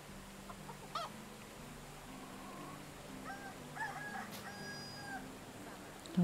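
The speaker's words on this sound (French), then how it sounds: "Attention au coq, hein." Rooster and fowl calls from the video game Medieval Dynasty, a few short clucking and honking bursts scattered over steady ambient game background, moderately near with no talking.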